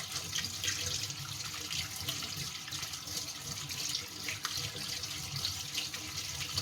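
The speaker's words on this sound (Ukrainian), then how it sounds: "Ретельно промиваю під холодною водичкою." Cold tap water runs steadily over mushrooms being rinsed in a sink, a continuous close splashing rush with no talking.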